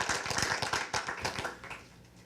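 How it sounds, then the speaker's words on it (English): An audience claps for speaker Dan after a talk on teaching, with moderate, irregular clapping from a small crowd that thins and fades toward the end. "one more round of applause for Dan"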